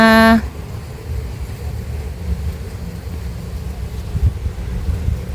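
Wind blows across a cassava field in steady low gusts and microphone buffeting that rise and fall, after a short tone at the start, with no talk.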